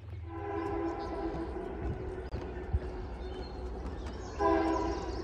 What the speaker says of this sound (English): at the Pauline Appalachian Trail stop for the Metro North